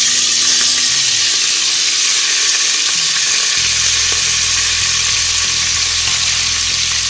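Vegetables, cowpeas and potato, dropped into hot oil with roasted cumin in a kadhai, producing a loud, dense, continuous close sizzle and hiss that holds steady throughout, with a low hum underneath and no talking.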